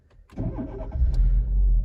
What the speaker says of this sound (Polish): Ja sobie pozwolę odpalić ten samochód.